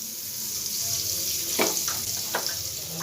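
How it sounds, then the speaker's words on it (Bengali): A spoonful of butter sizzling in a frying pan over a low gas flame, giving a steady soft hiss with a couple of brief louder crackles, heard close up without talk. "আমি ফ্রাই প্যান একটা বসিয়ে দিয়েছি। এর মধ্যে আমি এবার 1 চামচ বাটার দিয়ে দিলাম।"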